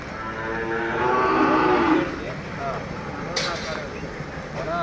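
A Hallikar calf gives one loud, drawn-out moo close by, followed by people talking amid outdoor background noise.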